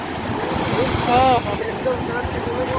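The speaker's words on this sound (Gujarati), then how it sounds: "જો કેટલા હિલોડા ભાઈ" Sea waves at Gomti ghat in Dwarka, a steady rushing surf with wind buffeting the microphone throughout, while a voice talks close by over the water.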